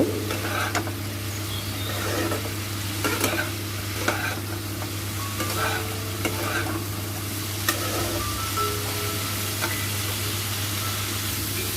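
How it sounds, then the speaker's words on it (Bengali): Ginger and green chili paste with spices being stirred in a hot pan for a vegetarian pumpkin-stem curry: steady sizzling frying under repeated scraping strokes of a spatula, close and fairly loud, with no talking. "দিয়ে আবার ভালো করে নাড়িয়ে চাড়িয়ে মশলাটাকে মিক্স করে নেব"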